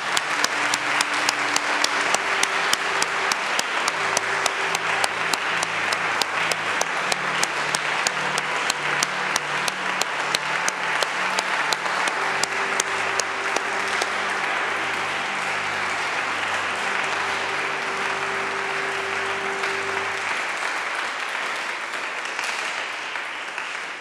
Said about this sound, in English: so now stand and we'll applaud you